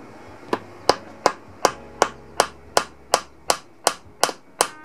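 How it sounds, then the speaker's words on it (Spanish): Nails being hammered to fix a sharpening stone in a homemade sharpener: about a dozen sharp, evenly spaced hammer blows in steady rhythm, loud and close, with no voices. "Con dos clavos lo vamos a fijar. Voy a poner uno primero."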